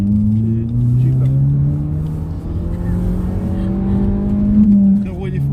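A car driving along a road and easing through a bend gives a close, continuous engine drone whose pitch rises and falls gently, with faint voices underneath.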